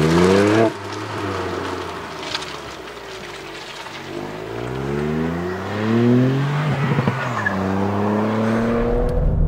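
A 2018 Ford Fiesta ST 1.5 EcoBoost three-cylinder engine accelerates through several gears, each rising whine cut by a brief drop at a shift, loud and close from inside the cabin.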